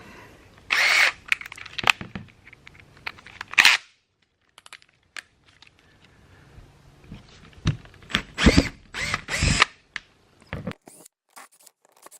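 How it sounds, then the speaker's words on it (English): A cordless drill whirs in several short bursts, close and loud, separated by quiet gaps and faint clicks and handling noises. "I've got an adapter here for my cordless drill."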